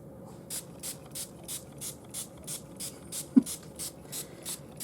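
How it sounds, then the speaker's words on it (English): Dylusions Pure Sunshine ink spray pumped onto a journal page, about a dozen evenly spaced short hissing spritzes, with one soft knock partway through. "Yes, I sprayed it everywhere."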